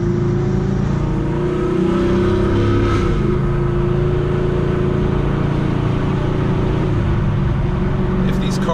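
A cammed 2017 Chevrolet Camaro SS V8 rumbles loud and steady from inside the cabin with the window down, its lopey idle-to-cruise drone holding throughout with a slight rise in revs.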